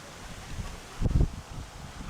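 Low gusts of wind buffet the microphone outdoors, with a stronger rumbling burst near the middle, fairly quiet overall.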